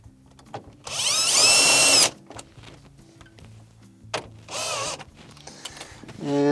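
A power drill drives a 1/4-inch screw into a GE refrigerator ice maker, with two sustained whirring bursts separated by quiet clicks and handling noise, then a short final burst at the end.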